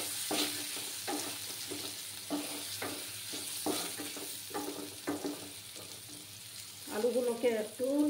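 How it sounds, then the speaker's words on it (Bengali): Potatoes fry in a pan for a vegetarian potato and paneer dish, giving a steady close sizzle broken by repeated scraping stirs, with a brief muffled voice-like murmur near the end. "আলুগুলোকে একটু লাল লাল করে ভেজে নেব।"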